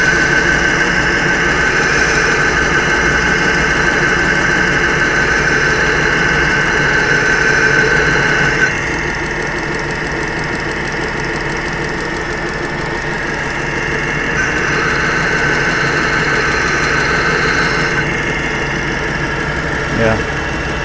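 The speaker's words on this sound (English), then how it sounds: "So this one is a fine conditioning belt, and it's just going to refine the scratches." A belt grinder running a fine conditioning belt refines the scratches on an axe head, giving a loud, steady, continuous grinding roar that eases slightly partway through as the pressure shifts, then swells again.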